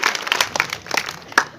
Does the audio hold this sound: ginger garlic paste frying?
no